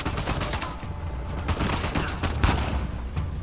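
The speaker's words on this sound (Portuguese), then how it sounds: "Cadê o miserável que tá atirando?" Enemy gunfire in the PlayStation 4 action game Uncharted 4, a dense, continuous fusillade of rapid shots with sharp louder cracks, steady and close throughout, with no talking.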